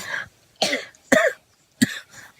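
Four harsh, close coughs from one person come in separate bursts with short pauses between them, loud and alone.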